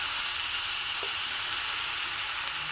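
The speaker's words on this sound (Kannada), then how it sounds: "ಒಗ್ಗರಣೆ ಹಾಕಿದ್ದ ಹಾಗೆ ನಾನಿಲ್ಲಿ ಬೇಯಿಸಿ ಸ್ವಲ್ಪ ಹೀಗೆ ಸ್ಮ್ಯಾಶ್ ಮಾಡ್ಕೊಂಡಿರುವಂಥ ಹಲಸಿನ ಗುಜ್ಜೆಯನ್ನು ಹಾಕ್ತಾಯಿದ್ದೀನಿ" Cooked, mashed jackfruit dropped into a hot tempering for a traditional Malenadu palya, giving a steady, close, hissing sizzle with no voices.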